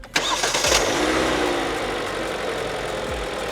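A small car's engine cranks briefly and catches on a WOLFBOX jump starter, then settles into a steady, fairly loud idle that runs on alone to the end.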